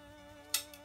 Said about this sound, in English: I'm using material scissors, so nice and sharp, shears, and just cut out a shape of a leaf